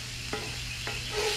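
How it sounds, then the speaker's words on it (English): Crumbled sausage browns in a skillet for a Southern-style breakfast, giving a steady close sizzle with two brief scrapes of a utensil stirring and breaking it up. "we're just going to break that sausage down and brown it."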